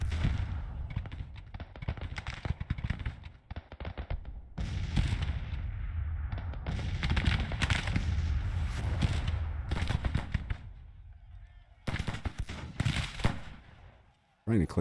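A dense, continuous crackle of musket and cannon fire from a Grand Tactician Civil War battle rolls on and off in irregular waves, fairly close and loud, with a few pauses and someone talking over parts of it.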